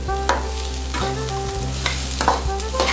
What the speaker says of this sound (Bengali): চাল আর ডালটা ভাজা হয়ে গেছে।